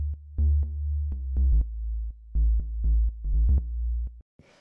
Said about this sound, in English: So then the third bass layer sounds like this.